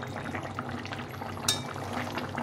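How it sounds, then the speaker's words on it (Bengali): Bata fish curry simmering in a pot, a steady close bubbling and hissing boil that runs unbroken throughout with one brief sharper clink near the middle, no voices. "ঝোলটা ফুটে গেছে সুন্দরভাবে।"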